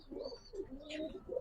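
Madrasi pigeons give soft, rolling coos in quick succession, close by and fairly quiet, with a faint chirp over them.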